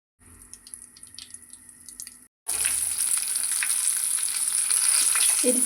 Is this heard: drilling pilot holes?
no